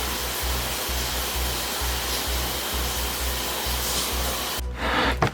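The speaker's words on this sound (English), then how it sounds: "Shower time." Shower water runs in a steady, loud rush with no break, and a brief clatter comes near the end.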